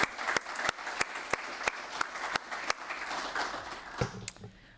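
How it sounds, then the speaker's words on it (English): A conference audience applauds the DG CONNECT team, steady clapping from many hands filling the room and trailing off near the end. "So please join me with a round of applause for our DG CONNECT people."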